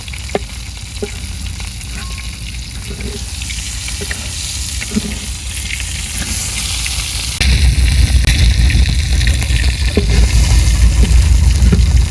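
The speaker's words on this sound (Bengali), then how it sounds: "একদম সবই লাল লাল করে ভাজছি" Potatoes with tomato and beans fry in oil in a pan until reddish, giving a continuous close sizzle and stirring scrapes that grow noticeably louder partway through, with no talking.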